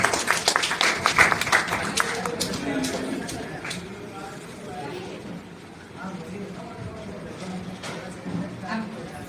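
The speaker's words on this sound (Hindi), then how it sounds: "एक बार मुख्य अतिथि के लिए आप लोग तालियां बजा दीजिए।" Applause for the chief guest at a Hindi book launch and felicitation ceremony, a burst of clapping at the start that fades into scattered claps under low hall chatter and background voices.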